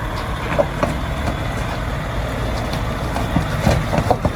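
A DAF truck's drive wheels spin against the ground as it struggles to pull away, a steady low engine and tyre roar with a few brief sharper squeals, close and continuous with no talk.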